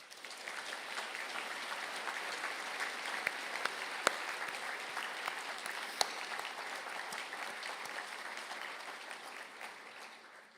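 Sustained applause for graduates standing at a university conferring ceremony, an even, continuous roar of many clapping hands that stays steady for about ten seconds with a few sharper claps and no talk.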